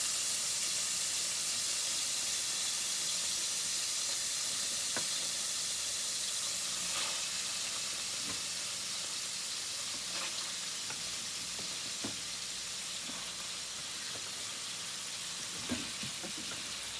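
Apples frying in melted butter give a loud, constant close-up sizzle and hiss that runs the whole way through, broken by scattered small pops and crackles, with no talking.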